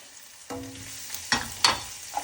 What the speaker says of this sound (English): So the mustard seeds are popping.